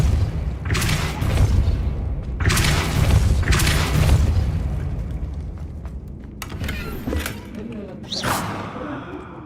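Repeated Depulso force-spell blasts in a Hogwarts video game: several heavy booming whooshes land a few seconds apart, each with a rumbling tail, followed by a sharper, brighter burst near the end.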